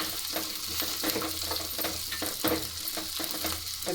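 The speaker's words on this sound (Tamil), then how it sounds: "இப்போ இது எல்லாத்தையும் சேர்த்து நம்ம நல்லா வதக்கிக்கணும்." Curry leaves, pepper and cumin sizzle steadily in hot oil for a spicy Tamil mutton kulambu, with a continuous close frying hiss and faint stirring scrapes throughout, no talking.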